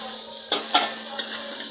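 Eggs hit a hot pan with onion greens, giving a steady soft sizzle broken by a couple of sharp clinks of a utensil against the pan, close and without talk.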